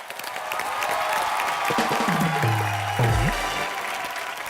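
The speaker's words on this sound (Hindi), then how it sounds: "तो सबसे पहले उसके लिए तालियां।" Studio audience applauding on an Indian TV entertainment show, a steady, full round of clapping that runs throughout, with a swelling musical sting rising over it midway.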